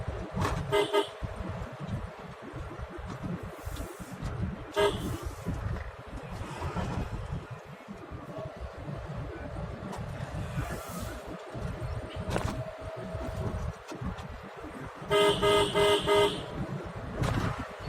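Car horn honking repeatedly while driving on a Punjab village road, short toots scattered through steady engine and road rumble, with a louder cluster of honks near the end.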